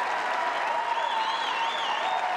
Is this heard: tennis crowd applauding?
yes